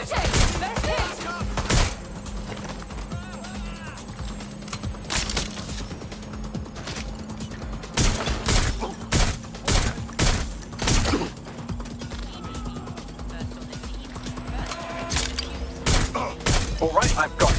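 Gunfire erupts in the video game Watch Dogs: Legion, scattered sharp shots and short bursts breaking out repeatedly over a steady low hum, with game voices talking through the action.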